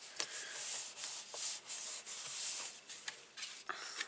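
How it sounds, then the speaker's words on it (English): A stamped paper card being rubbed down by hand, giving a steady dry scraping and rubbing that swells and fades in repeated strokes, close and fairly quiet, with no voices. "I'm just going to rub that down"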